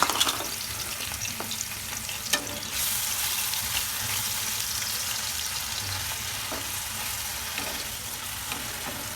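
Onion paste hits hot oil in a kadhai and fries with a loud, steady sizzle and hiss, a sharp surge after the first few seconds that then holds, with faint stirring scrapes; no talking.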